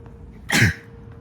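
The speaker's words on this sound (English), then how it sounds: "excuse me, I just sneezed." A single sharp, loud sneeze bursts out close by, quick and breathy, against quiet outdoor street background.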